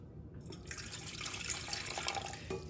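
Water pours into a mixing bowl already holding olive oil and a spoonful of lard for bread dough, a steady splashing stream that starts after a brief quiet moment and runs on close by.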